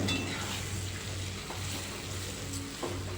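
Steady frying sizzle as spinach patra rolls are stirred into a tempering in a pan, with occasional scraping and stirring sounds, fairly quiet and continuous with no voices.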